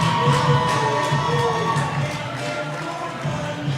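A celebrity boxing crowd at the Showboat Hotel cheers and whoops for a Philadelphia heavyweight being introduced in the blue corner, loud sustained roaring with scattered shouts and whistles from many voices.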